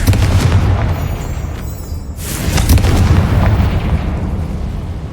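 In the Hogwarts Legacy video game, a Confringo spell explosion sounds as a heavy, booming blast with rumbling low-end debris that continues for several seconds, loud and close.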